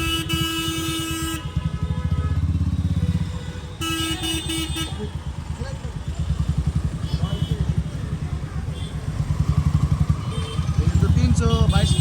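A Royal Enfield Classic 350 motorcycle ridden through busy market traffic, its thumping engine running steadily throughout as several car and truck horns honk nearby. Someone talks over it.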